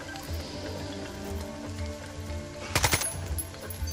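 A quick burst of gunshots in Jagged Alliance 3, a tight cluster of sharp cracks landing late over a soft, rain-like ambient backdrop.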